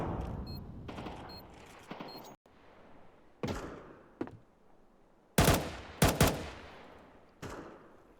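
Gunfire in a competitive Counter-Strike match in the ESL Challenger League: sharp, loud shots and short rapid bursts arrive in scattered clusters, with quiet gaps between them and a couple of heavier volleys near the end.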